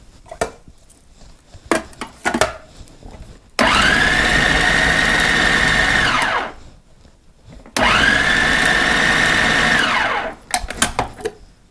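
Peanuts whirred in an electric chopper in two steady bursts of about three seconds each, a loud high motor whine with rattling nuts, separated by handling clatter and brief knocks.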